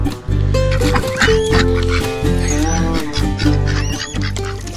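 Ducks quacking close by in a busy, loud mix of repeated honking calls, with strong tonal layers and a faint voice in the background.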